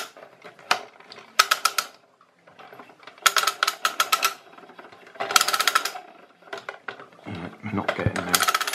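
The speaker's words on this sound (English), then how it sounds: "As soon as I increase the tension to try and get the stepper motor to grip and turn," Clockwork generator mechanism under increased tension, clicking and ratcheting in several short bursts as it strains to turn a stepper motor, close and moderately loud.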